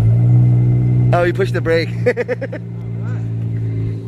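A Dodge Challenger SXT V6 with the rear resonator deleted and MagnaPacks in the center lets out a deep, steady exhaust rumble close by, droning under excited voices that talk over it.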